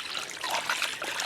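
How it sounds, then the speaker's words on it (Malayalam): Tap water trickles and pours steadily while quail meat is rinsed in a bowl, a close, continuous watery flow with no talking. "ഇനി നല്ലപോലെ ഒരു 3-4 തവണ വെള്ളത്തിലൊന്ന് കഴുകിയെടുക്കാം"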